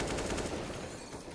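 Rapid pistol fire in a Counter-Strike esports match, a dense run of quick overlapping shots crackling over a loud game mix.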